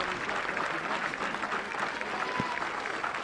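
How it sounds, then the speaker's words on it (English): A crowd at a high school state championship baseball game applauds in a steady, continuous ovation, moderately distant and unbroken, with faint voices mixed in. "It's a nice ovation from the crowd that made the trip down from the north central part of the state."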